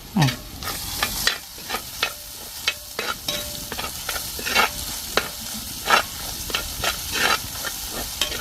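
Curry leaves sizzle and crackle in hot frying oil while a fish curry is being made, with repeated sharp pops and spits over a steady frying hiss and occasional stirring, close and fairly loud with no talk.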